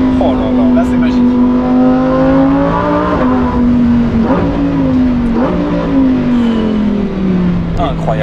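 A Lamborghini Huracán EVO's V10 engine revs loud and close, holding a strong hum that dips and surges in several quick blips.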